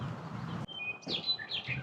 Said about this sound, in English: Because this is my favorite bird sound.